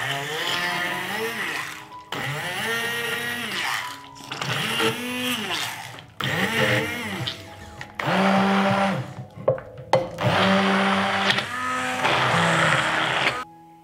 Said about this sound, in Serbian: I zatim ću sve usitniti štapnim mikserom.